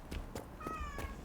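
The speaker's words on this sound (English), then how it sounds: "I have a small cat that wants to join." Small cat meowing in the Dragon Age: Inquisition video game, a few short, fairly faint meows spaced apart over a soft background.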